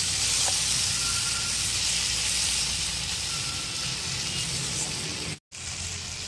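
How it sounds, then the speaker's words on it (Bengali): Bitter gourd and pumpkin fry in a pan, giving a steady, moderately quiet sizzle and hiss that runs evenly throughout, broken only by a brief cut near the end. "আমি এবার এই অর্ধেক ভাজা কুমড়োগুলোর মধ্যে ভেজে রাখা উচ্ছেটা দিয়ে দেবো। ভালো করে মিশিয়ে একটু সময় ভাজবো।"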